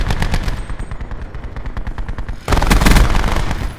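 Rapid bursts of automatic fire from a MicroMG submachine gun in Black Ops 4, a loud, close, continuous rattle of shots that grows heavier and denser toward the end.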